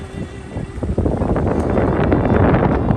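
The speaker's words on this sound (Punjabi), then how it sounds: "ਇੱਕ ਹਵਾ ਚੱਲੀ ਜਾਂਦੀ ਹੈ" Steady wind roars and buffets the microphone outdoors in Aadhnian village, Sri Muktsar Sahib district, Punjab, as a dense, continuous rumble that swells slightly louder after the first second.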